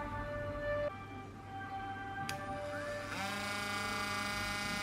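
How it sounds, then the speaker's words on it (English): A rotary tool with a flat ceramic disc grinds and levels rock: a steady high-pitched whine with tonal overtones that shift pitch midway, running close and continuous without pause. "So using the flat ceramic disc, I'm going to use it to level the grinded areas"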